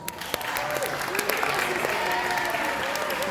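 A school audience at a science demonstration claps steadily throughout, a dense patter of hands with a few louder individual claps standing out.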